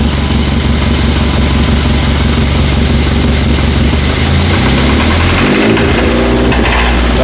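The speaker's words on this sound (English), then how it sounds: "give gas for me, give a little gas" A Hyundai Sonata engine with a knock sensor fault revs steadily and loudly for several seconds, then the pitch drops and wavers as the throttle eases off, with no voices over it.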